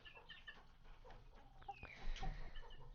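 Chickens in a coop cluck softly and intermittently, including the owner's speckled Sussex birds, with scattered calls rising near and far over a quiet background.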